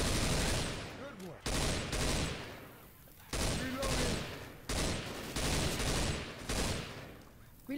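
Loud, dense volleys of rapid-fire shots from a video game gun come in bursts of a second or so, split by short gaps, close and forceful throughout.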